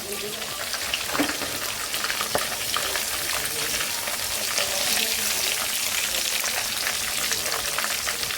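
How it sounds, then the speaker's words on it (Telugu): Chicken frying in a pan for a Rayalaseema-style chicken curry, a dense, continuous close-up sizzle with steady crackling throughout and no pauses. "అలాగే పక్కన చికెన్ కూడా వేగిపోతుందండి"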